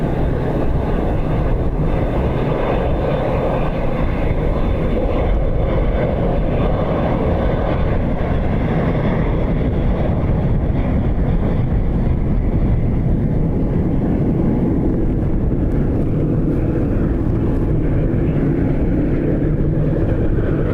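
A Ryanair jet lands on runway 28 left at Dublin Airport in strong gusty wind, producing a loud, continuous broadband roar that holds steady throughout with no talking.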